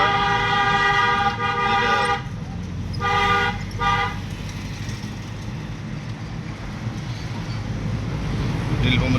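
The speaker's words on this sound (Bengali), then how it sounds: "নীলফামারী জেলা সদর, শহরের ভিতরের হাইওয়ে রাস্তা" Town highway traffic in Nilphamari district town, Bangladesh, along the Saidpur road, with loud repeated car horn toots early on over a steady road rumble; a voice speaks briefly.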